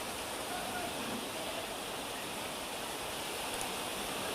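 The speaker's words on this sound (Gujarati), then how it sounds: "ડુંગર પરથી આવતા ભારે પાણીના પ્રવાહમાં કાર તણાઈ હતી" Strong floodwater rushes down from a hill in the Idar area during heavy rain, producing a steady, continuous roar that stays fairly faint and even throughout.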